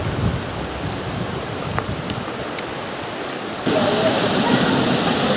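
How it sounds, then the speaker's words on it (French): The Cascade de la Cureuil near Mont Dore roars as a steady broadband rush of falling water, which swells abruptly louder and brighter partway through as the hiker draws closer. "Et voilà cette fameuse cascade."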